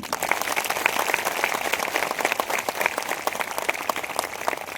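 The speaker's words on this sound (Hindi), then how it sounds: "जोर से ताली बजा दीजिए" A crowd at a religious gathering claps loudly for a performer, a continuous crackling wash of many hands with individual sharp claps standing out, steady throughout.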